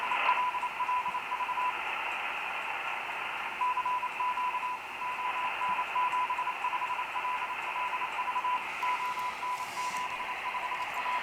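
Vintage loop antenna and converter picking up shortwave radio on the second band, a steady hiss of static with a faint continuous carrier tone, fairly even loudness and no voices.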